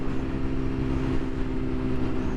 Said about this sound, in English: So the bike is just, it's so nimble and it sounds so good.